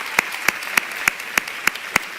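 A small audience clapping, with sharp evenly spaced claps at a steady rhythm, roughly eight of them in a short burst, fairly close and alone.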